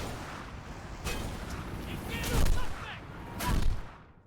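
Gunfire in the Mirror's Edge video game: a few loud, sharp shots with rumbling tails, spaced irregularly with the last two heavy bursts near the end, over a faint background.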